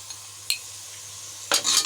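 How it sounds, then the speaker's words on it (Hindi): Garam masala and other spices fry in a pan for matar pulao as a utensil stirs them, with a low sizzle under two sharp scraping bursts, close and brief, no speech. "अब इसको अच्छी तरह से फ्राई करेंगे।"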